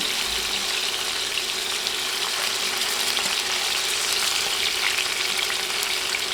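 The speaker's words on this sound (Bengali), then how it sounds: "দেখুন আমি উল্টে দিচ্ছি কত সহজে উল্টানো যাচ্ছে মাছ প্যানে লেগে যায়নি" Tilapia fish pieces fry in a pan of oil, a loud, steady close-up sizzle and crackle that runs unbroken without any talk.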